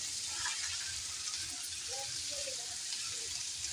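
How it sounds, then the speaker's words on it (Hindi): Green chillies sizzling as they drop into frying spices and ginger-garlic paste, a steady hissing crackle of hot oil at moderate level, with no voices over it. "अब हम हरी मिर्च डाल देंगे इसमें।"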